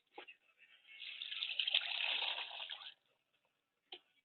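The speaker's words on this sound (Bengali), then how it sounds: "এবার এতে জল দেবে। এই যে জল খুলেছে" Water runs from a tap onto salt in a container to make salt water for puffed rice, a steady close gushing stream lasting about two seconds, with faint brief knocks before and after.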